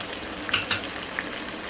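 Beef with ginger and spices frying in a pot while being stirred for Eid beef pulao; a faint steady sizzle with a few sharp scraping clinks of a spoon against the pot.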